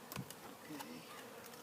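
A honeybee swarm in a cedar tree makes a faint, steady buzz with brief louder passes of single bees flying close, alone with no voices.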